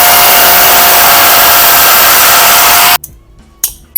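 A power tool, likely an angle grinder, cuts through a metal strip for a speed board disc brake build, a loud steady high whine for about three seconds that stops abruptly, followed by brief clattering.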